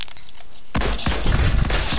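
Rifle gunfire in a one-on-one video game match erupts as a loud, dense burst of rapid shots after a brief quiet lead-in, continuing with booming, clipped blasts to the end.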